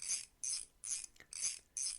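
A ratchet loosening rusted fasteners on a wheelbarrow clicks in five quick, evenly spaced bursts, each a short metallic rasp, close and fairly quiet with brief pauses between.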